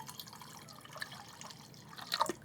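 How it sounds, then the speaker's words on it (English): Water trickles and drips into a warm batch of homemade gluten-free beer to cool it down. The pouring is soft and fairly faint, with a few brighter splashes near the end and no talking. "what I want to do is add some more water in there just to cool it down"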